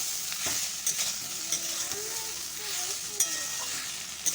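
Vegetables frying in a pan with salt and turmeric, a soft continuous sizzle broken by light scraping and tapping of the stirring utensil against the pan.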